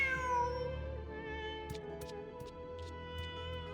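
A cat in Genshin Impact meows a few times, high and plaintive, over a steady electronic backdrop with soft music-like tones.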